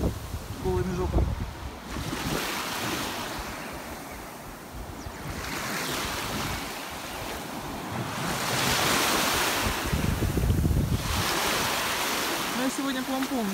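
Black Sea surf rolls onto the beach at Byala, Bulgaria, in a continuous wash of waves with gusty wind buffeting the microphone. Waves swell and recede every few seconds, and a voice speaks briefly over them.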